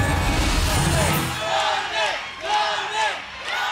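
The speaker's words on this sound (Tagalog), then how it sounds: "Patuloy ang sigawan at palakpakan ng mga taga-suporta ni Yorme Wawi Manguera" Crowd of supporters at a night campaign rally in Malibay, Pasay, loudly shouting and cheering in rising and falling waves, with a chant-like rhythm and no clear speech.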